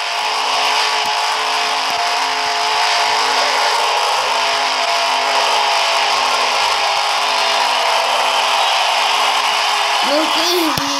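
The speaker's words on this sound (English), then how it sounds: "The pretending sound of pit stop is not very good." Pit stop effect from a stock car racing video game: a continuous, loud mechanical ratcheting whir with gear-like clicking, steady throughout with a brief rising tone near the end.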